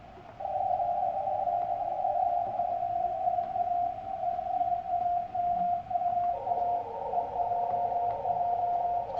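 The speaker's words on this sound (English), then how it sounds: "We're hearing 4XZ station out of Israel, Morse code 6607 CW." Morse code CW from Israeli station 4XZ received on shortwave radio at 6607, a steady keyed tone beeping continuously in rapid dots and dashes over faint band noise, shifting slightly in pitch near the end.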